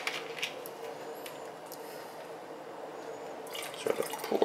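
Club soda pours into a mojito glass with a thin, steady fizzing trickle, growing louder toward the end with a few brighter splashes and drips.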